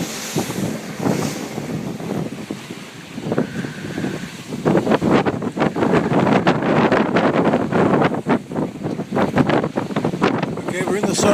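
Strong force 5 to 6 wind buffets a small boat at sea near a harbour entrance, roaring steadily into the microphone alongside splashing water, loud and close throughout.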